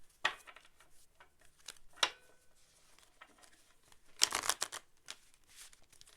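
Cards being shuffled in a few quiet, separate bursts, with soft riffling flutters and taps between them, close by with no talking.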